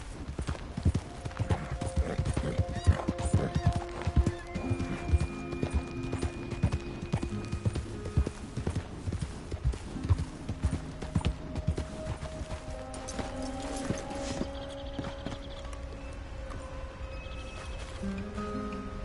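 Horse hooves clip-clop steadily at a riding pace in Red Dead Redemption 2, a continuous rhythmic patter with occasional whinnies and game music layered over it.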